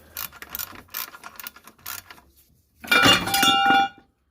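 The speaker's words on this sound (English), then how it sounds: "Just get the last bolt out." On a Vauxhall Combo van, a ratchet works the last bolt out of a bracket. Faint scattered clicks come first, then a loud, close burst of rapid ratcheting and metal clinks.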